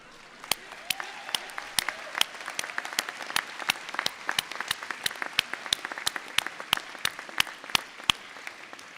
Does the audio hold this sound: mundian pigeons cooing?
no